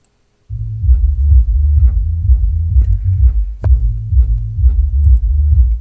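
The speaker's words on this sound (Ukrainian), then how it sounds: "включаємо саб. Відключаємо середні і мідбаси, і відключаємо високі. Слухаємо." Deep, throbbing low bass plays alone from a subwoofer, with the mids, midbass and highs switched off in a tri-amped system with a homemade Sigma DSP crossover, loud and steady, with a pulsing rumble and no voices.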